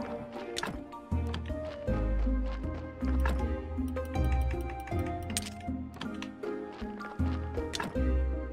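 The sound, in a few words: water dripping in Graveyard Keeper video game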